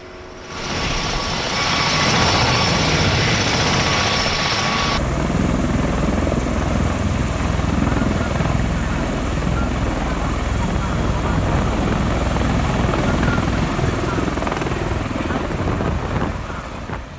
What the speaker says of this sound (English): The tilt-rotor plane, which can fly both like a helicopter and fixed-wing aircraft, is operated by the U.S. Marines